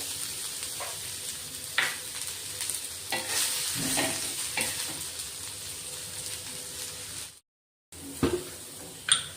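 Sliced onions frying in oil give a steady hiss with scattered stirring scrapes, close and moderately loud, broken by a brief silent gap near the end.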